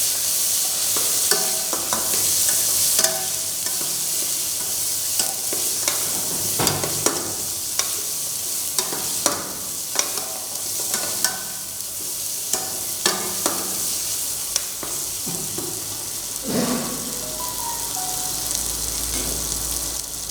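Tomatoes and chili powder sizzle in a hot pan for a Tamil turkey pepper fry. The frying hiss runs continuously, with repeated close scraping and clacking from the stirring spoon, and no one speaks.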